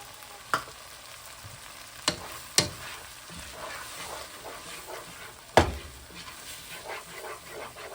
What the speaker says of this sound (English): Now we just want to make our roux with the flour, onions, and garlic, and our butter.